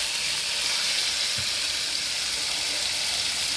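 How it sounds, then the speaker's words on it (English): Marinated rump steak fries in a hot pan, a loud, dense and unbroken hiss of sizzling fat held steady and close throughout, with no voices. "and then cook your meat"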